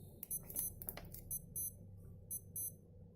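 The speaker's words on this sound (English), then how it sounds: "Some other Casio is beeping now" A Casio digital watch alarm chirps in quick high-pitched double beeps, repeating in a regular pattern several times, thin and fairly quiet over a low background hum.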